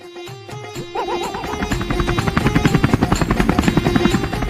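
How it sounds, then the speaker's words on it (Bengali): Helicopter flying, a steady rotor buzz and chop with a rhythmic pulsing that grows louder and fuller over the clip, with no talk over it. "হেলিকপ্টার হেলিকপ্টার আবার কোথায় যায়"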